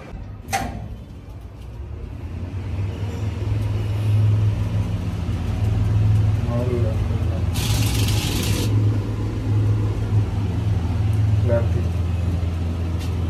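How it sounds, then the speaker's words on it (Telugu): Busy road traffic on the way to a Sri Anjaneya Swamy temple, a steady low rumble of passing cars and buses with a brief sharp hiss midway and occasional talking over it. "ట్రాఫిక్ అనేది ఫుల్గా ఉంది."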